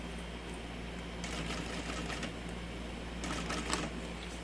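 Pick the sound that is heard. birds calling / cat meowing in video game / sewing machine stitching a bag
sewing machine stitching a bag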